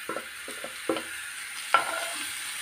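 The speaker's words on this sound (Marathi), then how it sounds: "कांदा आपला बऱ्यापैकी मस्त भाजलेला आहे" Onion and coconut dry-roasting in a pan for misal masala, heard as a handful of distinct scraping stirs with a faint background hiss, fairly close and moderately quiet, with no talking.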